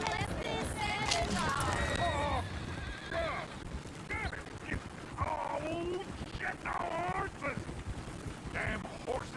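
Horse hooves clopping and a horse whinnying in the Red Dead Redemption 2 video game, with several sharp neighs over background noise and someone talking at times.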